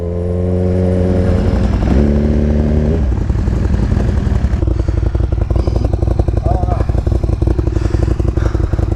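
An SSR Benelli motorcycle engine revs loudly up close, with a steady buzzing idle that climbs into a higher, rattling roar partway through, mechanical clatter mixed in throughout.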